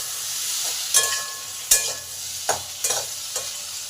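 Potatoes frying in a pan for a squash and potato curry, a steady soft sizzle broken by several sharp scraping stirs, close and alone with no talk.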